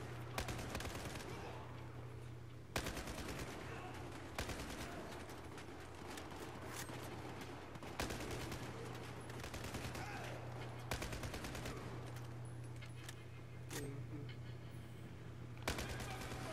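Rapid automatic shotgun blasts ring out in Battlefield 4, a dense run of loud gunfire over a steady low game drone, with sharper shots at intervals and someone speaking Spanish now and then.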